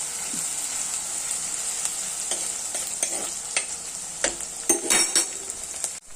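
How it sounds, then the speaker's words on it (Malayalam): Shallots, garlic, ginger, curry leaves and mustard seeds fry in oil for a fish curry, giving a steady close sizzle with a few clinks and scrapes of a utensil stirring the pan. "ചെറിയ ഉള്ളി വെളുത്തുള്ളി ഇഞ്ചി കറിവേപ്പില കടുക് ഇത്രയും നല്ലതുപോലെ മൂത്ത് കഴിയുമ്പോൾ"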